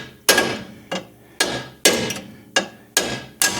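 Repeated hammer strikes knocking a ball joint out of the steering knuckle on a 2006 Pontiac Torrent, eight sharp metallic blows at a steady, slightly uneven rhythm, close and loud with no talking.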